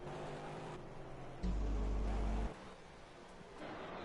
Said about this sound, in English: That McLaren engine sounds sick.